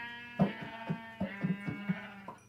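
Sheep in the video game Minecraft bleat several times in a row: short, nasal, wavering calls at an uneven rhythm, heard fairly close with no talking.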